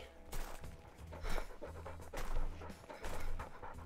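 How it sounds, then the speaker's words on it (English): Rapid, rhythmic dog panting from the video game Bloodhounds sits up close in the mix, with breathy bursts repeating over a layered electronic background. "Can hear the dog panting. Can you hear it?"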